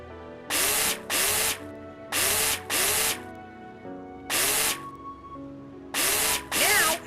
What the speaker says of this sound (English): Pull out the screwdriver from the backpack and install the necessary screws.